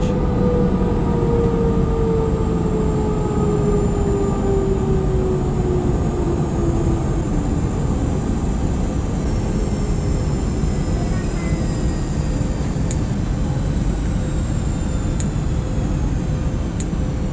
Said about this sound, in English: we have safely arrived to our gate and are now connecting the jet bridge.